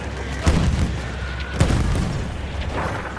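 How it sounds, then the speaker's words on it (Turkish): Tank cannon fire in the Battlefield 1 video game: two heavy, booming blasts about a second apart over a steady wash of battlefield noise, with no talking. "Tank vuruyor beni, tank vuruyor."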